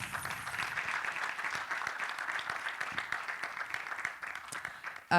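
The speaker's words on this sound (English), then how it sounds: "Can the audience please give a round of applause to our wonderful panelists?" Steady audience applause for a conference panel, moderately loud and even, continuing without pause until it cuts off at the end.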